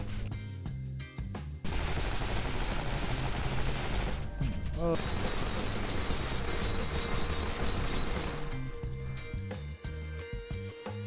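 A Thompson M1A1 submachine gun firing in the Heroes & Generals video game, sustained loud bursts of rapid automatic fire with brief pauses between strings, with someone talking over the shooting.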